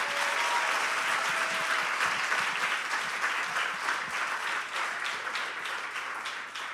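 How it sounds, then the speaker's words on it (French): A school talent show final audience applauds the participants with dense, loud, sustained clapping that fades slightly toward the end. "je pense qu'on peut donner une bonne main d'applaudissement pour tous les participants"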